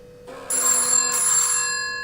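A 9Tong Q90 kids smart watch rings with a bright electronic ringtone that starts abruptly and rings continuously, close and fairly loud.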